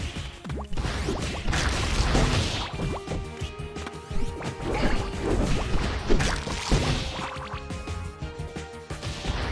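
Crashes and thwacks from a car smashing objects in the video game Dodgeball Academia, a series of irregular impacts and swishes over game music, fairly loud, without speech.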